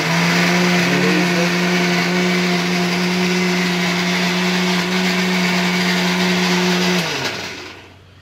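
A mixer grinder whirs loudly and steadily as it grinds coconut and chilli chutney, a constant droning hum that slows and winds down near the end.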